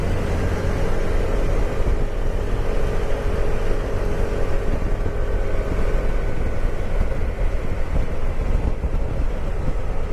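A Kymco 300i belt-drive scooter engine pulls hard under acceleration, a steady, loud drone with a slight oscillating waver, mixed with wind rush, continuous and alone without talk.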